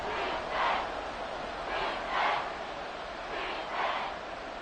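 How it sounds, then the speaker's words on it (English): A packed Arrowhead Stadium football crowd roars continuously, swelling in three loud surges against a steady wall of distant cheering, with no talk over it. "The Arrowhead crowd in full roar."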